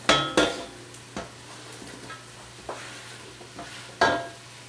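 Sliced celery going into a soup pot for chicken tortilla soup, heard as a few separate clattering drops and scrapes over a faint sizzle, close and fairly quiet, with no voices.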